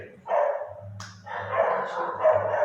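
A small dog barks in short, yappy bursts at close range, with a couple of separate barking spells filling the moment.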